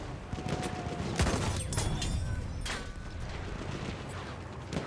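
Rifle fire from Battlefield 1 gameplay crackles in sharp, distant-sounding shots, a few spaced cracks amid a faint battlefield din.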